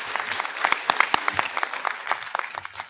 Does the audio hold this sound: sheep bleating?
no